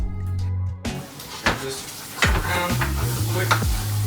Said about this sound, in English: We're just reheating the pesto, not cooking.